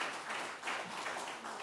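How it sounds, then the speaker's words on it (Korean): Audience applause at a commemorative ceremony, steady, dense clapping from a crowd, moderately loud and sustained for under two seconds. "여러분 뜨거운 박수 한번 다시 보내주셨으면 감사하겠습니다"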